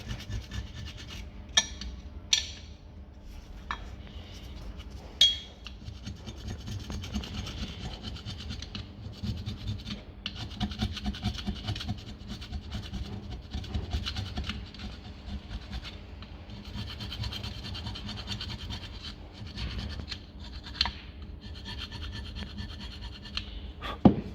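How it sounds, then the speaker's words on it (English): A flat screwdriver scrapes rust off the unpainted flat surfaces of a VW Golf GTI Mk7 front brake carrier, a faint, continuous rasping scratch with occasional sharper clicks, close and without talk. "So if you just use a flat screwdriver first of all, just get all that out of there."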